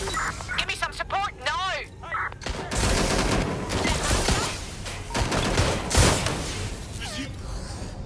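Gunfire in the video game Watch Dogs Legion, bursts of shots and a chaotic volley over game voices and electronic sounds, loud and close.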